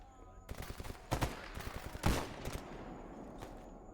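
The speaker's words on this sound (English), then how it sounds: "Grenade. I hear a grenade." Gunfire from the shooter game Stalker GAMMA during combat with a grenade, with a few sharp, fairly distant reports and rattling bursts over a quiet background.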